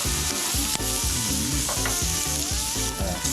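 Truffle butter frying in a hot pan gives a steady, loud sizzle with scraping stir sounds, and no voices are heard.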